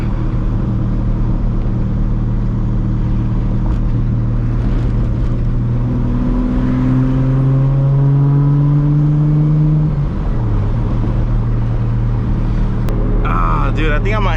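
A Toyota Supra MK4 with a T51R turbo and a 1000 hp setup revs hard, giving a loud, droning engine note that climbs in pitch and then drops back. A turbo whoosh follows near the end, with voices talking over it.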